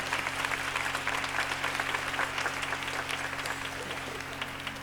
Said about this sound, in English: Give her a hand clap as she comes, please